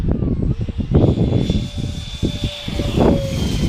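A small FT Viggen radio-controlled model jet flies overhead at sunset, its electric motor giving a thin, steady whine that rises and falls as it passes, over wind buffeting and rustle from an outdoor field.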